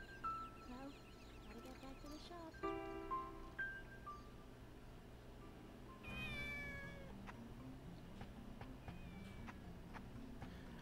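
A cat meows repeatedly in the Shenmue Dreamcast game, several distinct calls over a steady low background hum, with a rooster-like cluck mixed in and no talking.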